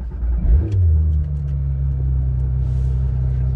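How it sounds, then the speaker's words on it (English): A Porsche 911 GT3 RS, 991 generation, cranks and fires up close by, a short starter whir swelling into a loud, steady low idle rumble that holds to the end with no talking. "So let's go ahead and start it up."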